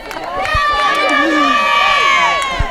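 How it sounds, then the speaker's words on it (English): Glenelg cheer squad cheering and shouting at the 2015 women's State League soccer grand final against Brighton, a steady, loud crowd roar with overlapping high voices and a few sharp claps throughout. "And there's the Glenelg cheer squad."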